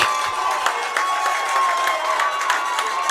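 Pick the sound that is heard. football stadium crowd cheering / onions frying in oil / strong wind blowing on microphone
football stadium crowd cheering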